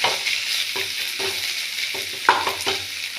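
Onions, ginger and garlic sauté in a hot pan with a continuous bright sizzle, punctuated by soft scraping stirs and a few sharper clinks of a utensil against the pan, close and steady.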